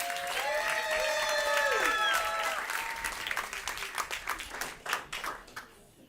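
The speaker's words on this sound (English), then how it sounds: "So give them a round of applause." An audience applauds a group of young farmers at a talk on food and the planet, the clapping rising over a fading musical chime and then breaking into distinct, separate claps before dying away.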